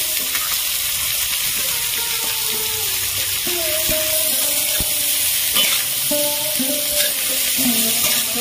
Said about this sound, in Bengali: সবজিগুলো আমি একসাথে ভালো করে ভেজে নেব